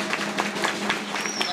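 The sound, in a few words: applause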